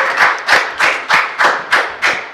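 Slow, deliberate rhythmic clapping on a talk show welcoming a guest, about seven loud, evenly spaced claps close by, each with a sharp hit and brief decay.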